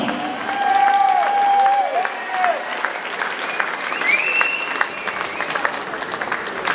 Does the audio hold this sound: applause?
yes